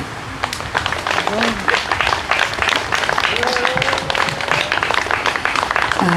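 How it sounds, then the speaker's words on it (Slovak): A benefit concert audience claps for the band, steady close applause throughout with a few faint voices in the crowd beneath it. "ja vás ešte poprosím o jeden veľký potlesk"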